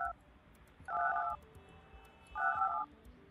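Telephone dialing tones from the building-management video game Project Highrise, two short beeping bursts spaced about a second and a half apart over a quiet background.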